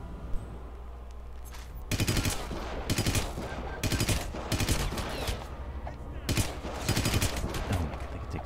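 Repeated bursts of automatic gunfire in the video game Hitman Absolution, loud, close and coming in several rapid volleys with short pauses between them, over a low game rumble.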